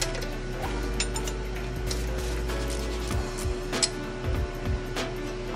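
Wrench clicking and ratcheting as it works a very tight nut loose on the reverse HST pedal of a Kubota BX compact tractor, with close, irregular metallic clicks over a steady low hum.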